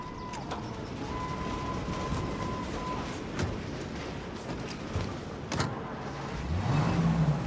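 Car driving in the Mafia Definitive Edition video game, a steady engine and road rumble running throughout with a faint whine and brief clicks, rising slightly toward the end.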